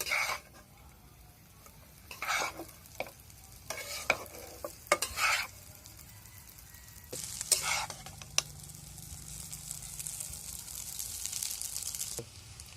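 Egg noodles are stirred and fried in a pan, with bursts of spatula scraping and clacks in irregular clusters over a faint background sizzle.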